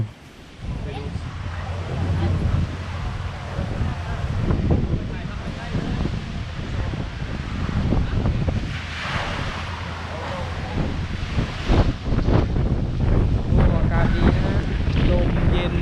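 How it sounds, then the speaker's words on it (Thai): Strong wind buffets the microphone on a boat trip to an island near Krabi, a continuous roaring rumble with sea noise and people talking underneath. "ลมแรงมาก"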